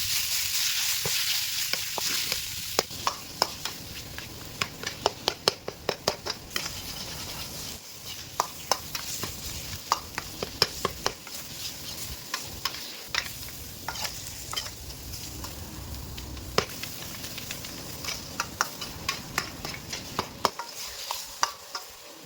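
Minced pork stir-fried in a dry pan with no oil for a Thai holy basil dish: a steady close sizzle runs throughout, broken by frequent sharp spatula scrapes and clicks against the pan, with no voices.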